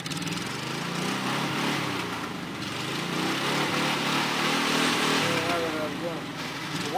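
Lada 4x4 or ZAZ 968M engine revving hard as the vehicle accelerates off-road, a loud continuous rough engine roar throughout with voices talking over it.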